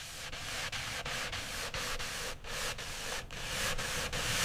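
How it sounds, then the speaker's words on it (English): Coarse sandpaper rubs over old wooden planks being shaped into a lounge chair, a loud, steady, gritty rasp broken into rapid, regular back-and-forth strokes, about a dozen in a row. "Starting with coarse sandpaper to remove rough edges."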